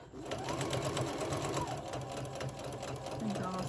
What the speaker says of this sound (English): I'm going to back stitch to get these out.